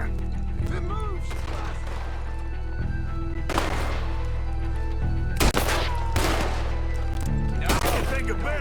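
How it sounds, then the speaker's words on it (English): Gunfire rings out in Red Dead Redemption 2, loud bursts of rapid shots at night separated by short pauses, over a steady low game hum, with faint voices in places. "Can hardly see what I'm shooting at."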